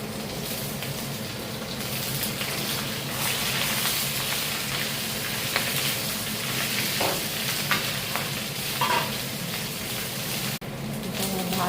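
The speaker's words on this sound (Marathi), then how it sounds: "ते कांदा घालतो आणि व्हेजिटेबल्स आपल्याला खूप शिजवून नाही घ्यायचं आहे, अगदी फक्त तेलात परतवून घ्यायचं आहे." Onion and mixed vegetables stir-fry in oil with a loud, dense sizzle that holds steady. Stirring rustles and scrapes rise at moments near the pan, and the track ends with a brief drop and a sharp knock, with no voices.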